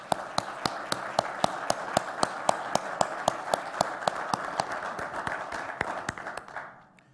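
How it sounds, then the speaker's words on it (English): Applause from an assembly audience in Geneva, a dense crowd of clapping with regular sharp, prominent claps from nearby hands, sustained for about six seconds before tapering off. "Let's give them a round of applause."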